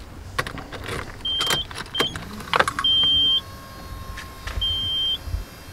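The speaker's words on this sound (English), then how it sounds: "Fuel pump primed." Nissan R32 GT-R fuel pump priming with the ignition on: a steady electric whine runs under repeated short electronic beeps and a few clicks and knocks, close and fairly quiet, with no talk.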